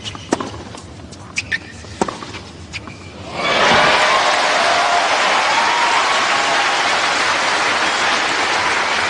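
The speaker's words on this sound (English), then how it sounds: "Crowd behind him now." A loud, sustained wash of crowd applause and cheering erupts at a tennis match at the Australian Open, following a few sharp ball hits and quiet court sounds.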